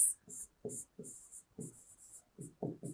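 A teacher writes during a science lesson on generating electricity, giving short bursts of scratchy strokes in quick irregular succession, close and fairly quiet, with a high faint tone between strokes.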